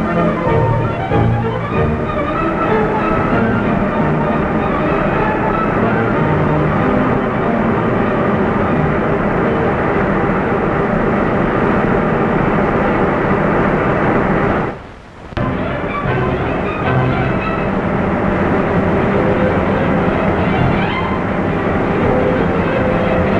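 A wire rope laying machine runs in a factory, twisting strands into rope with a dense, steady mechanical roar that continues throughout, dipping briefly once before resuming at full level.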